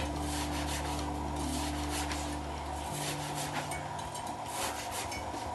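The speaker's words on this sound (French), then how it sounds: "votre oignon, on va le découper aussi, mais en très petite, en très fine lamelle" An onion is sliced very thin, giving repeated rasping cutting strokes close by over a steady low hum.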